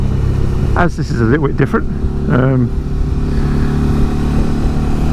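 Suzuki V-Strom 650 motorcycle ridden two-up with two heavy riders, a steady loud engine drone and wind rumble throughout while someone talks over it.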